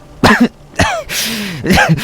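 A voice imitates harsh coughing: several rough throaty hacks and gasps in quick succession, close and loud.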